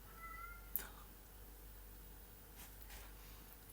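A cat gives a brief meow early on, faint against a quiet room with a soft background hum.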